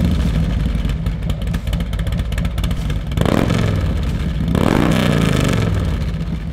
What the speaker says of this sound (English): And this is what the Jackpot sounds like.